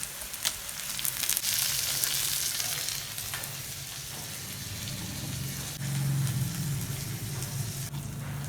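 Kerala-style sardines fry in a pan with a steady, close sizzle and crackle of hot oil that swells and eases over several seconds, with no talk.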